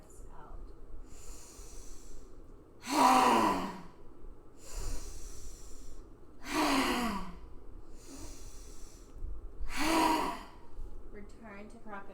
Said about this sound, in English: drawing a long, slow breath in and 3 ha breaths out